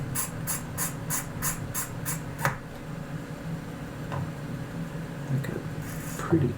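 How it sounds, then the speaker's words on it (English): Seiko 6139 watch mainspring being wound, a quick series of sharp ratchet clicks followed by a few scattered softer clicks and mechanism taps, close and alone. "Let's go ahead and put some power in the mainspring."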